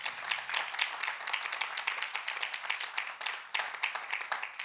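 A church congregation applauds and cheers for the Lord during a sermon, dense steady clapping from a crowd that runs throughout, moderately loud with a roomy feel.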